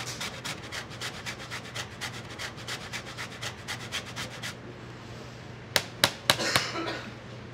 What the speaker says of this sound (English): And I can do it on a box grater, that's what we call it.